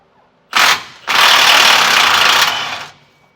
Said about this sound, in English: We're going to take a 21mm socket.